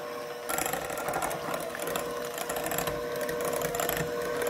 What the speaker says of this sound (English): Now we are going to take the hand mixer.